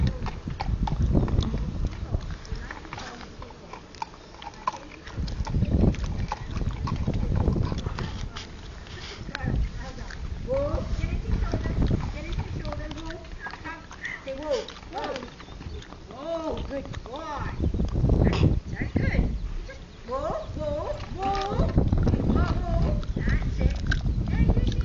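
Hooves clip-clop steadily on hard ground while people talk and call out nearby, with occasional snorts and background noise.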